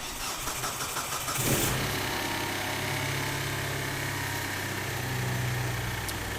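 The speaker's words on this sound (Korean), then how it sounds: "자, 이제 시동을 바로 한번 걸어 보겠습니다." A car engine cranks over, catches with a brief surge and settles into a steady, even idle, fitted with a vacuum gauge on the intake surge tank near the fuel pressure regulator, heard close with no talking.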